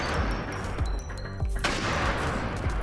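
Repeated explosions blast in the NIMRODS video game, a dense, continuous barrage of booming, crackling detonations with no pause, loud and close throughout.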